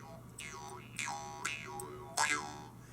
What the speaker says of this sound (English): I've got 2 Vietnamese jaw harps, which are pieces of metal, and one's a double tongue, and it kind of sounds like this.